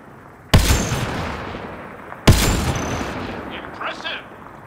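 Two sharp, loud gunshots about two seconds apart in the video game Mass Effect: Andromeda, each with a booming echoing tail, followed by fainter electronic whooshing effects.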